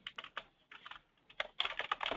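Rapid clicking of keys being typed on a computer keyboard during a conference call, with irregular bursts of keystrokes that grow denser and louder toward the end.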